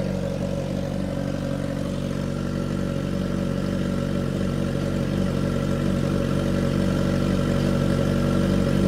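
A 2021 Kawasaki Z H2 or 2022 Suzuki GSX-S 1-liter motorcycle idles in an open space: a steady, even, low engine drone with a dense exhaust burble, close by, continuous, with no voices.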